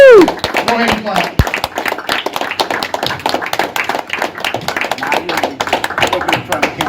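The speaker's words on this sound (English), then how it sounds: "Give me a round of applause." Crowd at a stand-up comedy show breaking into a burst of clapping and cheering, a dense steady patter of many hands with a loud whoop at the start and a comedian's voice over it.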